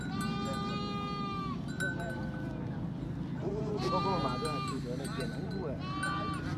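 Goats bleat at a mountain goat market at Cốc Ly in northwest Vietnam before Lunar New Year, with several wavering calls overlapping close by amid crowd murmur and background voices.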